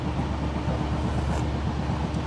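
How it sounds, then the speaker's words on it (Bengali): A Howrah–Barbil Jan Shatabdi Express passenger train running on the rails, heard from inside the coach as a steady, loud low rumble with a faint rhythmic clatter throughout and no voices. "আমাদের ট্রেন পার করছে রাধামোহনপুর"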